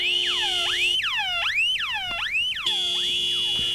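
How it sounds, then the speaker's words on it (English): A Holden VN car alarm wails in loud, repeated rising sweeps, each cycle about half a second, electronic and close, with no talk. "if a door, the bonnet or the boot is opened, the respective courtesy light will come on and this will sound the alarm"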